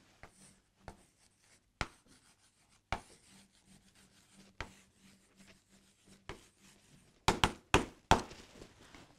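A pen writes out a math answer by hand, giving faint scratchy strokes broken by sharp taps and clicks, with a burst of quick firm marks near the end in a quiet room.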